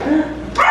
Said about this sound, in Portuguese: Olha ali a cachorrinha.